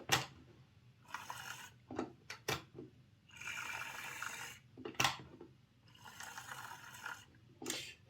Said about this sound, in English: Let's pop this onto the test track.